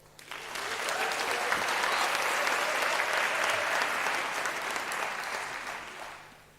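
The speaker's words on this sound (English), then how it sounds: "let's give them a round of applause" A large audience at a university graduation ceremony breaks into applause, a dense, loud wall of clapping that swells quickly, holds steady for several seconds, then tapers off.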